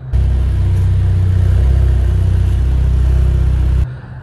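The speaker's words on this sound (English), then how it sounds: "listen to the sound from the engine." Engine of a 2021 Mercedes-AMG CLA 45 Coupe with a 2-liter turbocharged inline four, a loud, deep, steady idle rumble heard close up that holds evenly and then cuts off abruptly near the end.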